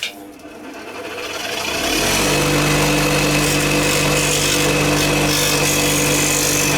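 A power tool grinds the feet of a figure. The whine is faint at first, then swells to a loud, steady grinding that holds to the end.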